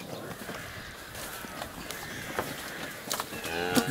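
A cow in heat wanders a farmyard by a knocked-down fence, mooing low and drawn out near the close, with scattered caw-like calls and rustling around it.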